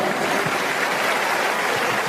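A church congregation claps together in steady, dense applause, loud and continuous for the whole stretch with no voices standing out.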